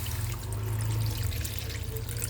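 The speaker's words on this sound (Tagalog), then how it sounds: "Lagyan natin ng tubig." Water poured into a cooking pot of pinangat with tomato and onion, a steady low gushing pour lasting a couple of seconds, fairly close and continuous with no talk.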